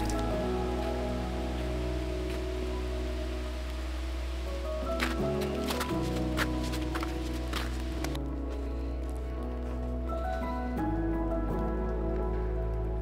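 Steady rain falls on a forest trail in Huerquehue National Park, Chile, in winter, a continuous close hiss of drops on leaves and ground with no talking.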